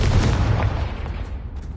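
Confringo spell explosion in the Hogwarts Legacy video game: a single heavy, close boom with a rough, rumbling body that slowly dies away.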